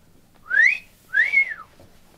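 Two bright, rising whistles with a short pause between them, clear and close, with nothing else heard.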